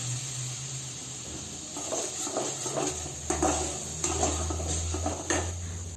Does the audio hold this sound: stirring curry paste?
yes